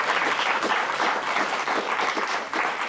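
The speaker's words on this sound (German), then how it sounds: "Ein Applaus bitte" A studio audience at a German comedy show claps in steady, dense, continuous applause that fills the whole stretch at an even, fairly loud level.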